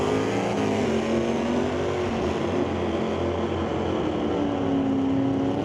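A drag racing car at an NHRA Northwest National Open Series event makes a steady, loud engine drone down the strip, a continuous roar holding across the whole stretch with no voices over it.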